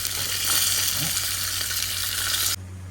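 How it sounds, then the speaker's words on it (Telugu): Urad dal and curry leaves sizzle in hot oil while being fried as tempering for Lingaiah chutney, a dense bright crackle that continues until it cuts off abruptly near the end. "ఇంకా మినపగుళ్ళు ఇవి మనం రెగ్యులర్గా వేసుకునే వాటికన్నా కొంచెం ఎక్కువగానే వేసుకోవాలి చట్నీకి ఫ్రై చేసుకోవాలి కరివేపాకు కూడా యాడ్ చేసుకొని బాగా ఫ్రై చేసుకోవాలి"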